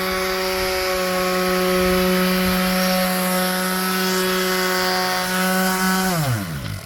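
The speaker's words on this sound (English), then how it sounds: "Giving it a sanding down all the rough edges with a mouse sander" A mouse sander sanding rough wood edges buzzes steadily with a strong droning hum, then winds down in pitch as it switches off near the end.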